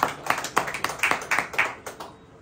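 A church congregation claps hands in worship, a run of fairly steady, sharp claps at close range, about two per second, with no talking.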